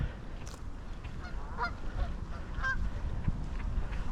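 Waterfowl at a lake call out in a scatter of honks and quacks against a constant outdoor wash, the calls short and moderately distant, with no talk.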